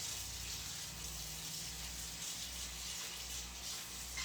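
Tap water running steadily into a sink while vegetables are washed, a continuous even hiss and gush, faint and unbroken with no talk.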